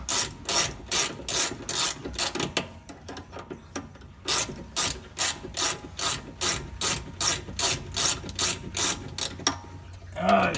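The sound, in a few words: turning a shock bolt loose to work it out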